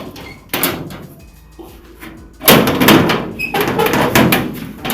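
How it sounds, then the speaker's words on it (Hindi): A door being shut indoors in a home: a few sharp knocks and thumps, then a louder bang and rattling clatter as it closes, close and fairly loud. "अब बंद हो गया दरवाजा"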